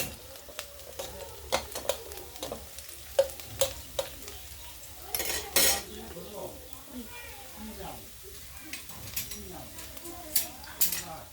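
Onions and egg frying together in a pan for a homemade pasta dish, with a steady sizzle under repeated scraping, clattering stirs. A voice may be faintly present in the background.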